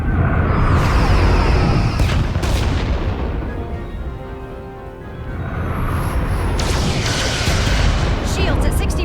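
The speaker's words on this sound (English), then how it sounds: "Fire phasers!" Phaser fire and explosive impacts in a Star Trek: Resurgence starship battle form a loud, dense barrage of booms and blasts that dips briefly midway, then swells again under faint talk.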